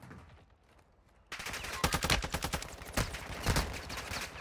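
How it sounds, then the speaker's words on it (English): Gunfire in Call of Duty: Warzone 2, a dense, loud barrage of rapid shots that bursts in after a quieter opening and keeps rattling with repeated sharp cracks. "Taking effective fire!"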